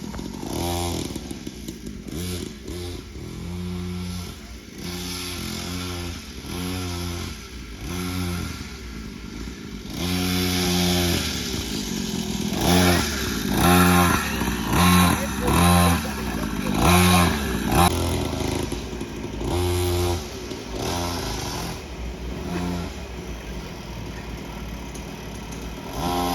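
A small dirt bike engine runs loud and close for a child's ride, its buzzing two-stroke-like drone rising and falling with repeated throttle blips and revs.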